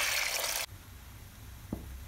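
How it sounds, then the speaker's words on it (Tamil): Water is poured into washed toor dal for an elephant yam sambar, a loud, steady splashing pour that stops abruptly, followed by quiet kitchen background and one soft knock. "தேவையான அளவுக்கு தண்ணி சேர்த்து கொஞ்சம் மஞ்சள் தூள் சேர்த்து"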